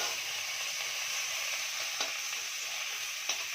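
Taki (snakehead) fish pieces sauté in hot oil for a fish curry, giving a steady, close hiss with faint stirring scrapes and a couple of sharp pops over the constant sizzle.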